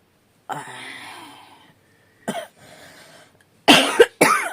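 A person coughs several times in a quiet room: a drawn-out hacking cough, a short second fit, then two sharp, harsh coughs close together.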